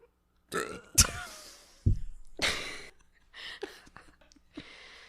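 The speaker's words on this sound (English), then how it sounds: "I'm like burping at the cemetery scene" Several loud burps close by, one long and low, separated by short pauses and breathy sounds.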